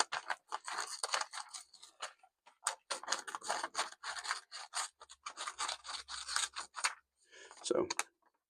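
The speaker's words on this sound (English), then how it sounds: "So pretty good cutting ability with these scissors." Scissors on a 19-in-1 multitool snip through a piece of paper in a rapid series of crisp, close cuts, with short pauses between bursts and a final louder snip at the end.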